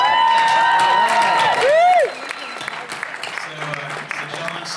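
Audience applause and cheers at a state Speaker of the House debate, a loud burst of clapping with whoops and whistles that dies down partway through, with a voice speaking over it.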